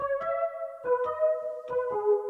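Analog Lab Butterflies synth preset played completely dry: three sustained, bright harmonic tones with sharp onsets, each note held for about a second before the next, alone and moderately loud.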